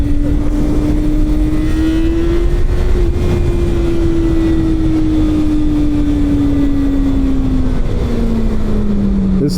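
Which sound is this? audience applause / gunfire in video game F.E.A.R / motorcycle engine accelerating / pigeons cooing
motorcycle engine accelerating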